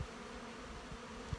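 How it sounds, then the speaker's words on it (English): A soft, steady hum of honey bees buzzing at a hive in early spring fills the background, faint and continuous, with a couple of brief low bumps. "The bees are in a good mood."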